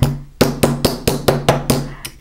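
A hammer gently flattens the edges of textured metal on an anvil with soft blows, giving about eight evenly spaced, light, ringing taps up close, with no talking.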